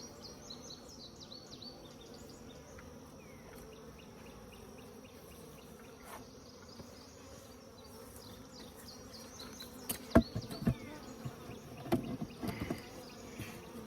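Honeybees hum steadily around two combined deep beehives, a soft continuous drone with individual bees buzzing past close by and a few sharper knocks and rustles near the end.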